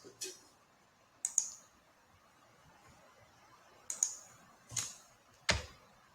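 Sharp computer mouse clicks sound close and quiet, five or so isolated taps spaced irregularly over near silence.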